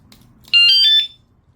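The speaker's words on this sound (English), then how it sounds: "Alright, I mounted my alarm right here with the zip ties." A Wsdcam 113 dB wireless vibration and motion sensor alarm, zip-tied onto a Can-Am, gives one short, shrill electronic chirp in a quiet setting.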